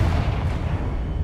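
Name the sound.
Confringo blasting spell explosion in a Hogwarts video game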